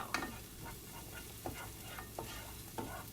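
Almonds and green onion sizzle in a hot pan, a steady frying hiss broken by several crisp stirring scrapes at an even pace, close and alone.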